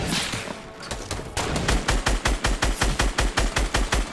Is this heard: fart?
no